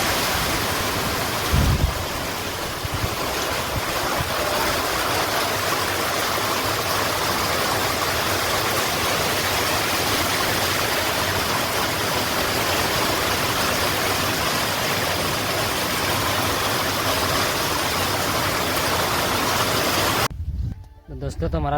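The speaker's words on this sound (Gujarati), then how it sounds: "કેટલો બધો વરસાદ પડે છે" Heavy rain pours steadily over farm fields of sesame and cotton, a dense, loud hiss that stays unbroken for about twenty seconds with a person talking over it, before stopping abruptly.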